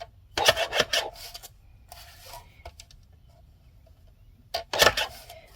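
A Tonic paper trimmer cutting off the edge of a card makes short scraping, rasping strokes, two clusters near and fairly loud with a fainter pass between, no talking.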